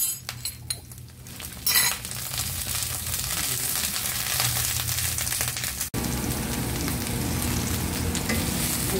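Green beans fry in hot cooking oil in a pan, a loud steady sizzle with a few spoon scrapes and clinks at the start and a brief stir midway.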